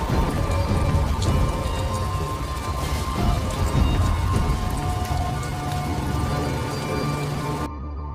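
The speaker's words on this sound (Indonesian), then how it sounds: "Di tengah hujan lebat" Heavy rain pours steadily in a film scene, a dense wash of drops hitting surfaces with a low rumble beneath, loud and unbroken until it cuts out abruptly near the end.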